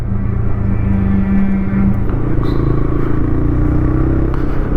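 TVS Raider commuter motorcycle engine running, a loud steady low rumble with a sustained drone and no break over nearly five seconds.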